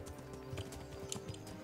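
Horse hooves clip-clopping in a steady rhythm as a horse is ridden in the medieval role-playing game Kingdom Come: Deliverance, mid-distance with faint game music behind.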